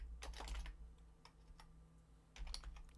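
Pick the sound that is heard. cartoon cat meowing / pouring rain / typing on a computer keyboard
typing on a computer keyboard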